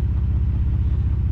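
A Ford Raptor with an AFE exhaust, AMS turbo inlet pipes and SDP downpipes runs with a deep, close, rumbling engine note that pulses steadily through a brief stretch.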